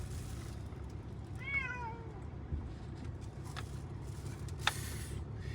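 Steady road traffic rumble heard from a truck towing a 13,000-pound camper through Florida, a constant low drone with a brief squeaky meow-like squeal and a few faint clicks over it.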